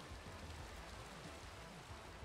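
Steady, faint hiss of rainfall in Minecraft with the ATM 9 modpack, an even, continuous patter with no voices or other sounds.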